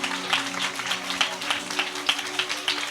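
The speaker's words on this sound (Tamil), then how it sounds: "நம்ம சபையில் இருக்கிற மற்ற பிள்ளைங்க எல்லாரும் சேர்ந்து இவங்களுக்கு நல்ல ஒரு கைத்தட்டல் கொடுக்க போறோம்" A group of children at a church vacation Bible school gives a round of applause, steady, moderately loud clapping with rhythmic peaks lasting a few seconds, with a faint murmur of voices underneath.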